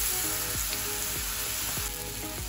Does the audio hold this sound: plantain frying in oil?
yes